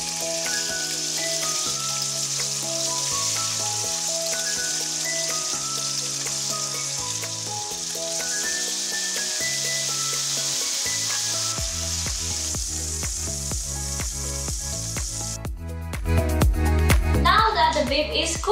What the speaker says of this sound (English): let's cook the beef before cutting a vegetable